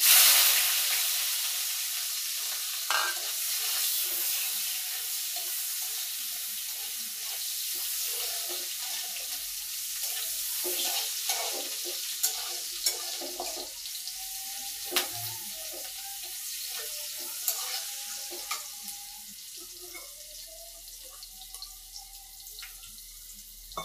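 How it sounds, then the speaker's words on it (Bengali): Chopped onions with cumin fry in a pan for a soybean curry, a steady hiss of sizzling oil with scattered clicks of stirring over about twenty-four seconds, fading slightly, no voices. "দিয়ে দিতেছি পেঁয়াজ কাটা"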